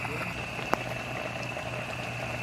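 Fish paksiw na adobo bubbling in a cooking pot, a steady low simmering hiss with a soft pop or two, close and continuous with no talking.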